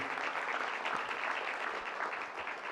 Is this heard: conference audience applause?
yes